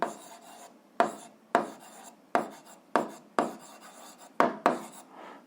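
Pen writing on paper during an algebra exercise, a series of about nine short scratchy strokes in a steady rhythm, each with a sharp start and a quick fade, close and quiet with no talking.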